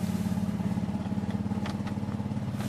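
Steady rumbling engine running loud and close with a regular throbbing pulse, the car just started, checking its injectors for leaks.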